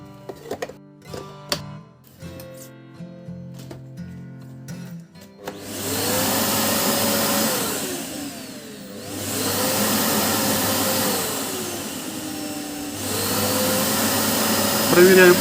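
A Samsung vacuum cleaner kicks on partway through and runs with a loud, steady motor whine and rushing airflow, its pitch wavering up and down several times, after a few seconds of scattered clicks and sounds.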